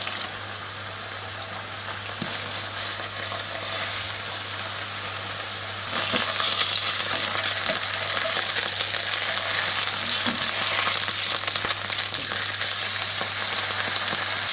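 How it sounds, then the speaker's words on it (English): A steak frying in oil in a hot pan, a dense continuous crackling sizzle that swells louder partway through, with a faint steady hum beneath and no talking. "And now the flame is on to heat up the pan. Now to chuck in the steak."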